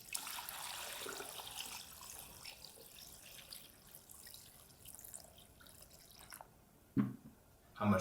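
Dry clay fragments soak submerged in a bucket of water, giving off a faint, steady fizzing crackle, close by and quiet, with a couple of soft knocks near the end.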